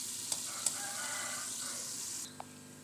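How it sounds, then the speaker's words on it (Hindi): Onions fry on a medium flame in a pan with a continuous hissing sizzle and a couple of faint clicks. The sizzle drops suddenly near the end, and the sound is quiet and close with no talking. "अब प्याज को अच्छे से हम फ्राई करेंगे मीडियम फ्लेम पर, ताकि ये गोल्डन ब्राउन हो जाए।"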